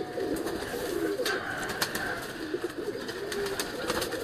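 Soft pigeon coos repeat over steady outdoor background noise from rooftops where flocks are being flown, with a few faint clicks and flutters scattered through.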